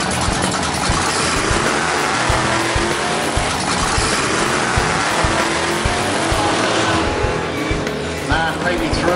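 A 56 gas Chevy drag car at the Port Road Drags gives a loud, continuous, rough engine rumble with pulsing revs, heard up close with a brief dip near the end.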